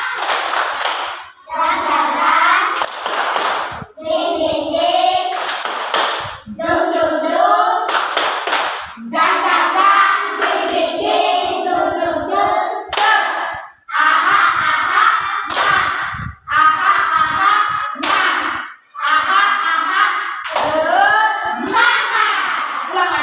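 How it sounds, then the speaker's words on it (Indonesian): A class of third-grade schoolchildren performing a rhythmic spirit clap routine, sharp bursts of group clapping in patterned sequences alternating with the children chanting in unison. "Tepuk semangat."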